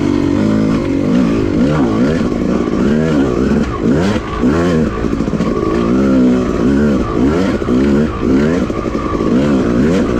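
A Yamaha YZ250 dirt bike ridden hard along a muddy woods trail after rain at Manchester OHV, its engine loud and close, revving up and down in rapid surges throughout with no talking.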